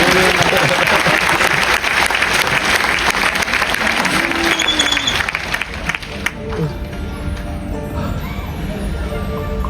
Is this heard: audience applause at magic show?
yes